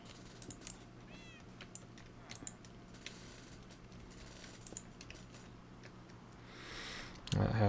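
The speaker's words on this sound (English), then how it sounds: "Is that my cat? It goes meow." A Minecraft cat meows a few times, faint and brief, amid sparse game sounds and keyboard clicks, with a louder thump at the end.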